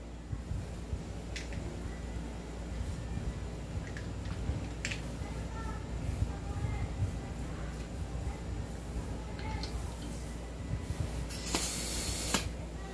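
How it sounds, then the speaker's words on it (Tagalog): Gas hissing steadily while an airsoft JWC PitViper gun is filled, a continuous close spray with short sharper spurts and a louder burst of escaping gas near the end. "Lagyan natin ng gas, mga airsoft."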